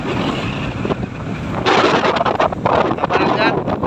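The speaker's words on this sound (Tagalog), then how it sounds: "Napakalakas kasi ng hangin." Strong monsoon wind batters a small fishing boat at sea, a loud, constant roar of wind buffeting the microphone over rushing water and engine rumble, growing rougher midway.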